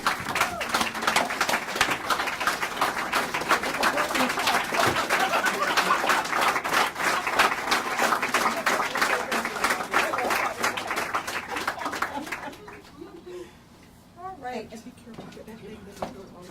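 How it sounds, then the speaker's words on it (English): A lawyers' association audience gives a standing ovation, loud dense applause sustained for about twelve seconds before cutting off, followed by a quieter stretch where a voice talks briefly. "give her a standing, rousing round of applause"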